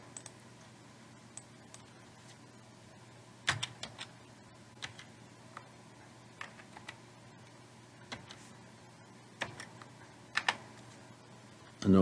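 Slow, sparse keystrokes on a computer keyboard during a networking lab exercise, isolated clicks and small bursts spaced across the stretch over a low steady hum, with no talking.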